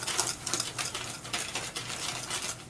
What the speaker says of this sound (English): Just scrape up against the side of the bowl